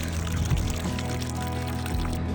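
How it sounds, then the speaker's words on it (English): Water runs steadily out through a just-cleared drain hole on a boat after debris had clogged it, a continuous close pouring and trickling sound that lasts throughout with a slight surge partway. "Apparently the drain hole was clogged by debris,"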